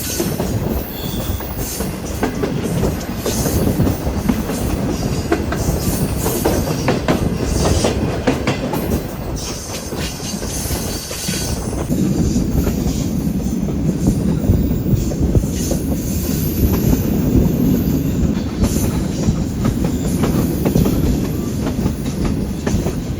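A Green Line passenger train hauled by locomotive GU14 runs steadily, heard from on board with continuous rumble, rhythmic clickety-clack of wheels on rail joints and occasional wheel squeal, loud and unbroken throughout.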